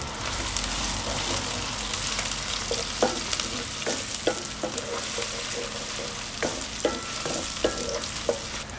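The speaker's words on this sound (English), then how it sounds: "And we let the onion fry in the hot oil for maybe 30 seconds." Chopped onion fries in hot oil for a duck curry, a dense, steady sizzle with occasional stirring clicks and scrapes, close and fairly loud throughout.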